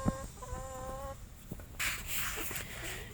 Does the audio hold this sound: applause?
no